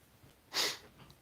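A single short, breathy sneeze bursts out close by, then quiet.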